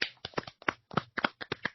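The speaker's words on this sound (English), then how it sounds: "Can we all like start clapping?" A few people clap in quick irregular bursts, close and dry, with sharp individual slaps and short gaps between them.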